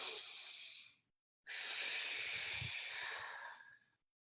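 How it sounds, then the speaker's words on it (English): A deep inhale during breathwork meditation, with a long airy breath sound, a short pause, then a longer, fuller intake of breath that fades out. Close and soft, no voices. "Ready? And inhale."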